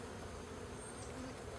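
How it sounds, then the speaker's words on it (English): Honey bees hum steadily at an open, very strong hive during an inspection, a dense, even buzz of many insects that stays soft and continuous throughout. "This is a very strong hive."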